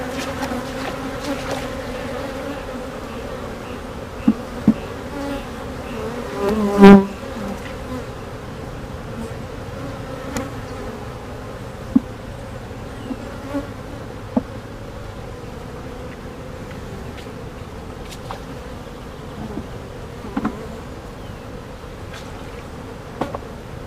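Honey bees swarm around an open beehive frame, a dense continuous buzzing hum close by with occasional louder passes of individual bees near the microphone; no one speaks.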